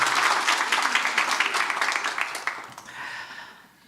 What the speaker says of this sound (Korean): 우리 감사하다고 박수로 한번 감사의 마음 표현하겠습니다